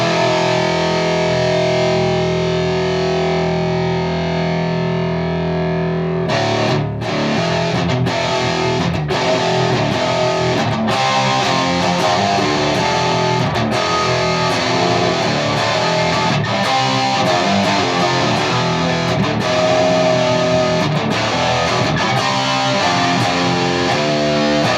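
Electric guitar played through the high-gain fourth channel of a Mesa Boogie Rectifier Roadster amp: a sustained, heavily distorted chord rings out, then gives way to loud, chugging palm-muted riffing with sharp rhythmic stops, dense and continuous.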